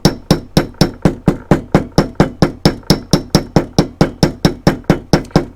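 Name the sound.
mallet tapping copper rivet while peening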